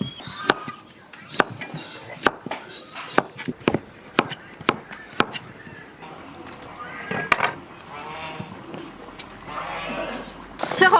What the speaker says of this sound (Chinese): 切点洋芋